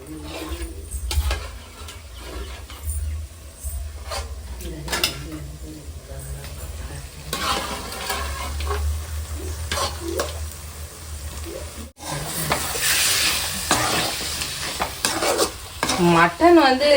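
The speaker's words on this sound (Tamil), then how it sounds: "அள்ளி போட்டு வதக்கினீங்கன்னா இன்னும் நல்லாயிருக்கும்" Mutton pieces tossed in masala in a hot pan, a steady sizzle and fry with repeated scraping stir strokes throughout, close and fairly loud, with a voice talking over parts of it.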